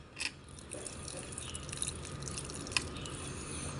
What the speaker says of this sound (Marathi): हे पाणी मग असं टाकायचं ह्याला झाडाला हो असं टाकायचं